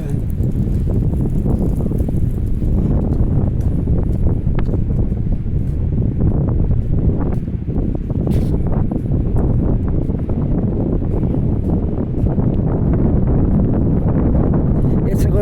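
Wind buffets the microphone on a breezy city street, a loud continuous low rumble and roar that persists throughout with no clear pauses, close and dominant over any other sound.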